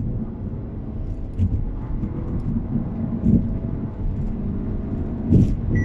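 A car held in third gear at full throttle during a road test gives a steady, droning engine rumble with wind noise, broken by a few brief louder bumps.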